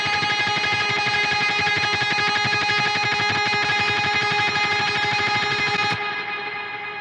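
Ping-pong stereo delay in eighth notes with modulation and filtering on a heavy metalcore guitar part, a dense, sustained distorted wash with repeating pulses that cuts off near the end, leaving a fading tail.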